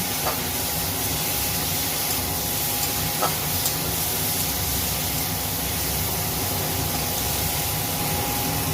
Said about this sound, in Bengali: মাছটা আমি ভাজি করে নেব